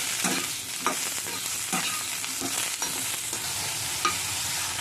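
Steady sizzle of ridge gourd pieces frying in a pan, broken by a few scraping stirs of a spatula at irregular intervals.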